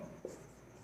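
The letter T written by hand during a maths lesson, a single faint, brief scratching stroke with no talking.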